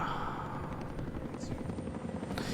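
A helicopter from a scene in the Chernobyl TV series gives a steady, low rotor thrum with a dull drone. It sits at a moderate distance, fairly quiet, with faint talk mixed underneath.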